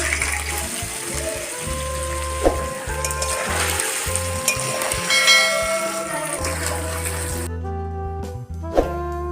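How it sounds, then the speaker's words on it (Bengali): Paneer pieces frying in white oil in a wok give a steady sizzle throughout, with faint bell-like clinks and a few sharp utensil taps, ending in a quieter stretch. "এরপর কড়াইতে সাদা তেল দিয়ে পনিরগুলো ভেজে নেব।"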